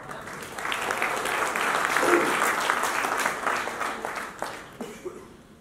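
A poetry audience applauds steadily for several seconds, a dense wash of clapping that tapers into a few scattered claps at the end.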